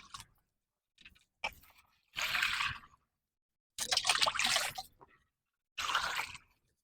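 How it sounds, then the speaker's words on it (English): Plain tap water poured into a Greenstalk vertical planter in three separate pours, each a loud splashing gush with faint drips between. "Since this is regular water, I'm just going to pour some in it."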